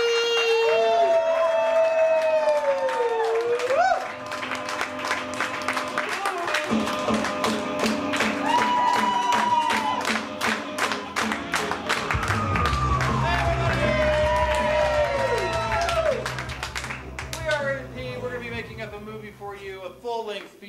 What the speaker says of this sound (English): Get your hands clapping. Make some noise for Ryder P!